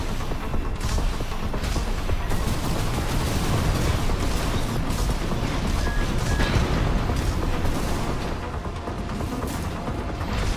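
Continuous heavy booming and blasts in Armored Core 6, a grenade explosion buried in dense, loud combat noise with rumbling low end that barely lets up across the stretch.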